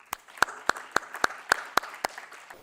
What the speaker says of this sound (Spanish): un aplauso para Máximo Torero.